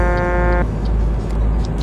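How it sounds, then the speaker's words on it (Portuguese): A truck horn in Euro Truck Simulator 2 gives one short, loud, buzzy blast that cuts off sharply, followed by steady engine rumble and soft ticking. "Toma uma buzinada aí"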